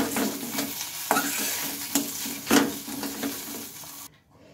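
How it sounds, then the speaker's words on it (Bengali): Boiled potato with turmeric and salt is stirred in a frying pan, a close run of scraping strokes with soft sizzle beneath, then the sound cuts off abruptly near the end. "এর মধ্যে এখন সেদ্ধ করা আলুটা দিয়ে নেব। তারপরে ভালোভাবে আমি মিশিয়ে"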